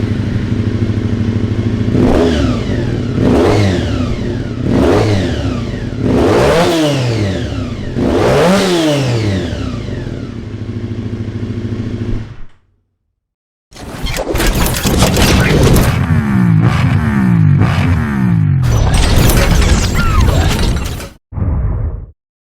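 A Honda CBR250RR MC22 motorcycle engine revs hard and close, with repeated rising and falling high-pitched screams, a brief silence, then another run of rapid revving bursts.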